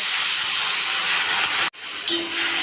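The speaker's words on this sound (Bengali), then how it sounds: "এবার আমি জল দিয়ে দিব" Water hits a hot pan of fried potatoes and spices, giving a loud steady sizzling hiss that breaks off abruptly and then resumes more softly with a faint tonal whine, without any speech.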